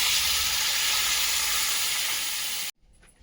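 A loud, steady sizzling hiss as water is added to vegetables frying in a hot pan for shukto continues for a few seconds, then cuts off abruptly into near silence.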